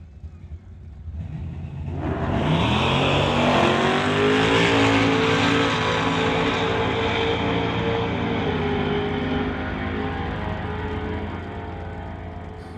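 At a street-legal drag race, a nitrous-equipped 1978 Malibu and a 2019 Mustang launch together. Engines roar loudly and hold a sustained, rising howl as the cars pull away, then slowly fade.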